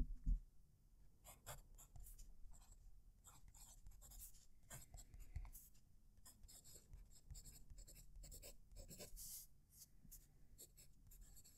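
Pen nib scratching across Fabriano paper in a close, quiet writing sample, with bursts of scratchy strokes and short pauses running throughout, alone with no talking.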